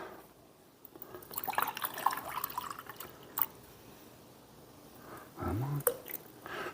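Apple cider is poured into a measuring cup, a soft liquid trickle with faint splashes and clinks, fairly quiet and close.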